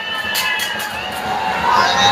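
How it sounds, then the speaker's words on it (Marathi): Party workers cheering at a municipal election victory celebration in Panvel, a brief burst of crowd shouting and cheering close by, with overlapping voices and rising excitement toward the end. "कार्यकर्त्यांचा उत्साह आहे कार्यकर्त्यांचा जल्लोष पाहायला मिळतोय"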